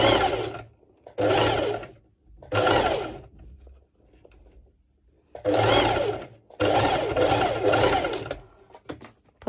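A domestic sewing machine runs a straight stitch along a bikini top in five or six rapid whirring bursts separated by short pauses, close and fairly loud, with no talk over it.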